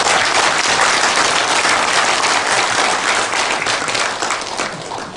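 An audience at a lecture hall event bursts into dense, sustained applause, loud and close, easing off slightly toward the end.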